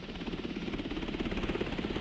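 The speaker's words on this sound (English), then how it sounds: "A pilot is saved by helicopter." Rescue helicopter in 1968 US Air Force combat footage, its rotor chopping in a steady rapid rhythm over a droning engine, continuous and moderately loud with no talking.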